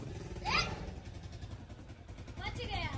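Modified dirt bike engine running nearby, a low rumbling idle with two quick revs rising and falling, heard under people talking.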